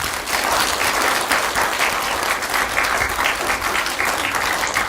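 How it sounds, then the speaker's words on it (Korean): An audience at a lecture gives sustained, dense applause, many hands clapping steadily and loudly for several seconds without a break. "다시 한번 큰 박수 부탁드립니다"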